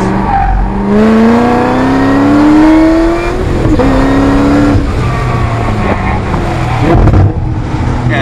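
A car engine fitted with ProEFI fuel injection revs loudly up and down as the throttle is blipped, close and dominant, with rising and falling pitch sweeps.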